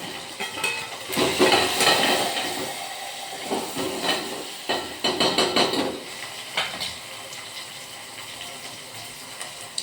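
Masala sizzling and frying in a pan while cooking a brinjal and field bean vegetable dish, a steady crackling hiss with louder bursts and clattering pan sounds in the first half, easing to a quieter sizzle later.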